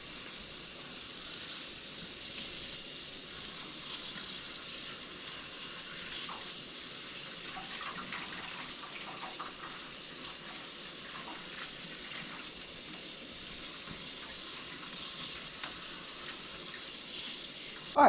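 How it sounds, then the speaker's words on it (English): Water runs steadily from a tap into a sink for soaking van-build material, a continuous even hiss lasting throughout at moderate, fairly distant level with no talking. "now I'm going to go and soak it in water so it'll soften it up a bit"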